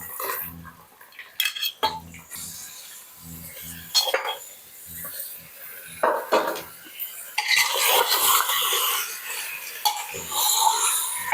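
Country chicken pieces are stirred with masala in a metal pot, with repeated clanks and scrapes of a spoon against the vessel, close and clear, and a thicker sizzling stir toward the end.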